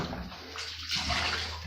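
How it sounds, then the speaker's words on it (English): A grout float is rinsed off under running water, a brief steady splashing gush with a slight shift partway through, heard close with no voices. "we'll just wash off our float so it doesn't dry on there too much"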